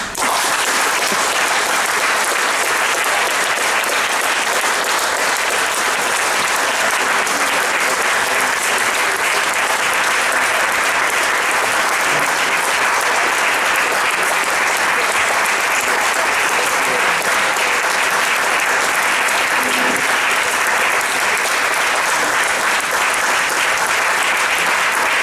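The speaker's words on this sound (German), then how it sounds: "Ein wohlverdienter Beifall." A lecture audience applauds steadily and loudly for the full stretch, a dense, even wash of clapping from many hands that neither builds nor fades.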